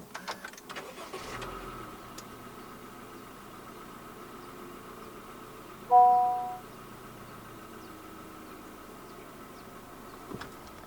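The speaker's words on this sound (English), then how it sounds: "press the start button to the right of the steering wheel" A 2024 Honda City 1.5 RS is push-button started: a brief, sharp starter whirr catches, then the engine settles into a quiet, steady idle, heard close with a faint click near the end.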